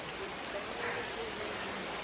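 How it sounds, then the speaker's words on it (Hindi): Heavy rain deep in a forest in Sikkim, a dense, even hiss of falling water that holds steady and fills the whole clip with no voices over it. "तो आप देख सकते हैं कैसे बरसात हो रही है।"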